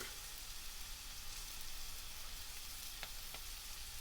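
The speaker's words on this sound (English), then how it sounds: "Then we will place it on top of our griller." A homemade beef burger patty sizzles on a griller with a steady, even hiss of frying fat, fairly quiet and close, and a couple of faint ticks near the end. No one speaks.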